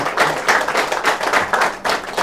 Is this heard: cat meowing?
no